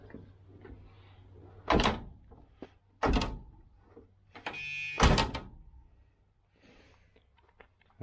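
Door work on a 1978 Chevy Nova under restoration: a few separate thunks and slams, one with a brief rattle, each standing alone against a quiet garage.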